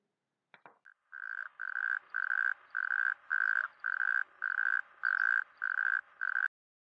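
A toad croaks in a slow, even series of about ten short trilled calls, close and clear against silence.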